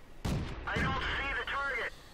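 A tank shell bouncing off a Type 95 Ha-Go tank in World of Tanks, two sharp heavy impacts followed by a ringing metallic whine that fades out.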